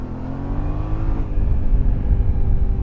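A Yamaha Tenere World Raid adventure motorcycle ridden on a highway, its engine loud and close with a steady droning note that shifts after a brief gear change, wind rumbling underneath.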